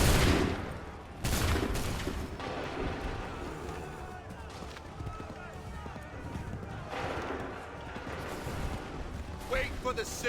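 Musket volleys crack out in Assassin's Creed 3, several loud bursts of gunfire spaced apart amid battle noise, with voices shouting now and then.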